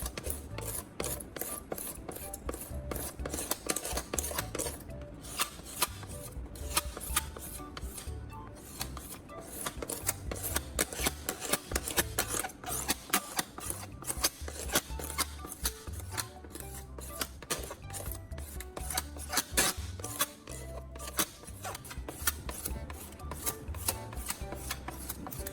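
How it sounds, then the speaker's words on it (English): Steady, rapid scraping of a blade shaving the outer layer off a car headlight, a dense rhythmic rasp continuing close and moderately quiet throughout. "I only shaved horizontally, not vertically."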